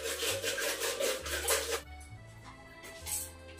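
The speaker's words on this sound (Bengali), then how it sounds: "তো কড়াইটাকে মেজে নিলাম" Scrubbing a kadai (wok) by hand in a home kitchen: a close, loud, rhythmic rasping scour in repeated strokes for about two seconds, then quieter scraping and clinks.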